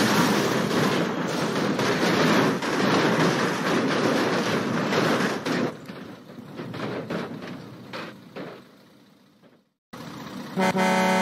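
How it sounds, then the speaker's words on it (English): Loud, close rumble and rattle of a passing train, steady for several seconds, then fading and broken by a brief silence before the noise returns. "Oh my god, train!"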